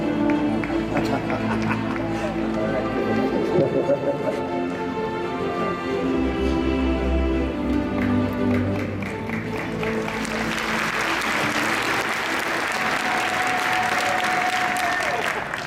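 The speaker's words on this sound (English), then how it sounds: "let's have one big clap for my good friend" A large audience at a Kiwanis International convention in Las Vegas claps steadily and loudly, the applause swelling into a dense roar after a spoken introduction.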